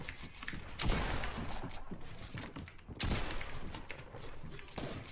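Bot gunfire comes through a window in the video game Fortnite, rapid bursts of shots with mechanical clatter, loud and close in irregular clusters.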